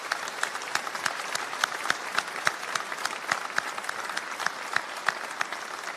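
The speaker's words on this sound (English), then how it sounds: "So please join me in a round of applause." An audience at a college graduation ceremony claps steadily, a dense patter of many hands at moderate volume, continuous from start to finish.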